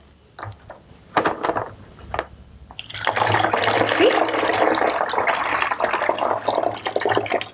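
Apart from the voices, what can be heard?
water poured through a funnel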